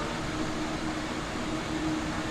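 In Train Sim World 2, an ICE 406 high-speed train brakes, giving a continuous broad rumbling, rushing roar of wheels and airflow that stays steady and fairly loud without any voices.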